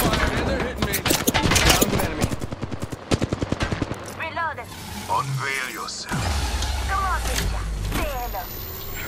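Rapid automatic gunfire from the video game Apex Legends rattles in dense bursts for the first few seconds, then gives way to scattered in-game effects and voice lines.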